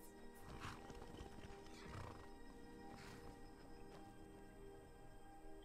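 A horse whinnies and snorts a few times over faint clopping hooves in the video game Skyrim, quiet and somewhat distant, with no talking.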